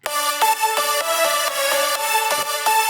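Bright, layered Serum synth lead tones play a rhythmic stepping melody, dense and buzzy with rich harmonics, loud and continuous without any voices.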